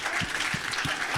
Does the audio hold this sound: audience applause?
yes